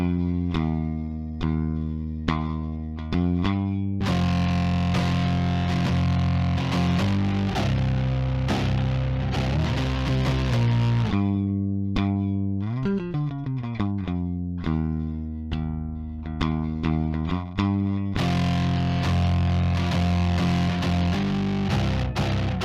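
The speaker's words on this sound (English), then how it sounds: "I reamped my dry signal from that show into the POG2, and then I crushed it with my Source Audio Aftershock Distortion." An electric guitar runs through an Electro-Harmonix POG2 octave pedal and a Source Audio Aftershock distortion, producing thick, crushed, sustained chords and riffs with layered octaves, played loud and steady without any talking.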